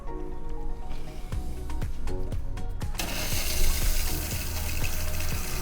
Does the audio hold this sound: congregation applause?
no